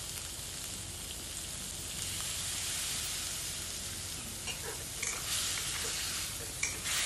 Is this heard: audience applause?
no